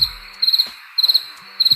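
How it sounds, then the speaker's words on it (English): Crickets chirp in bright, rapid pulsed bursts that repeat at a steady rhythm, standing close and clear against a quiet backdrop. "crickets?"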